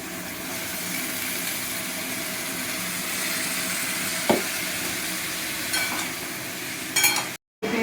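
Potatoes sizzle steadily in a pan with fried onions, a continuous loud frying hiss broken by a few clinks of a utensil stirring and a brief gap near the end.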